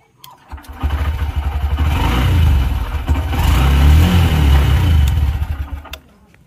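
Motorcycle engine revving up close and loud, rising and falling in several throttle swells over a steady idle before cutting off, with no voices.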